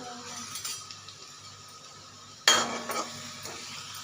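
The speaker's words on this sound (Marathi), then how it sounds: "मी इथं खोबरं आणि लसूण बारीक करून घेतलं होतं मिक्सरमध्ये, हे सुद्धा आपल्याला तेलामध्ये टाकून घ्यायचं।" Ground coconut and garlic hit hot oil in a pan with a sudden, sharp sizzle. Before that come soft clinks and stirring, and the frying hiss then settles and continues.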